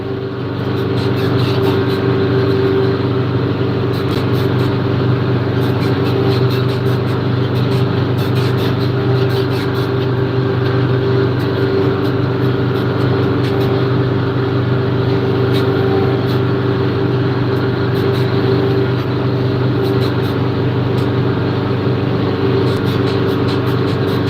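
A tractor engine pulling a plow drones continuously at a steady, heavy pitch, loud and close, running without pause and with no voices.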